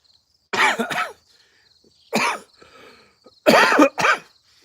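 Three separate bursts of coughing, the first and last with two quick hacks each, loud and close, with quiet breathing in between and no speech.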